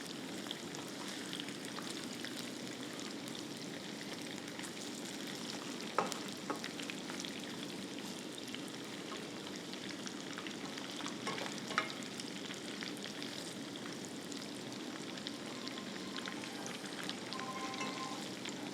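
Pieces of Japan-style chicken deep frying in hot oil, a steady crackling sizzle with scattered pops, close and even throughout with no voices.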